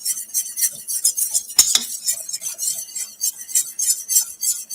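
Quick metallic clinks and scrapes against a pot as sauce is whisked while braising short ribs, a rhythmic close tapping with one sharper knock partway through.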